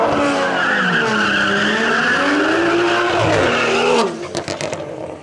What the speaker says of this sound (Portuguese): então a BM vai acelerar sozinha